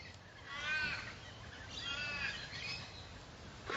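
Outdoor crows give two or three harsh, drawn-out caws, moderately distant and repeated about a second apart, over a steady background hiss.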